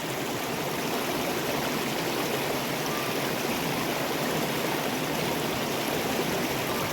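A stream of water flows along a bush hiking trail near Sydney, a steady close rushing babble that continues evenly throughout with no talk over it.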